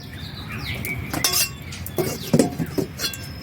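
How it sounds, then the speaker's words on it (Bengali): Fried five-spice seeds and dried red chillies are tipped onto a stone grinding slab, making a short series of light clinks and rattling taps close to the mic. "ভাজা হয়ে গেছে, আমি এখন শিলে ঢেলে নেব।"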